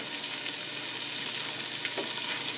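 Chopped onion hits a pot with a little oil and sausage fat, giving a loud, continuous sizzle and crackle close up, with one brief stirring scrape and no talking.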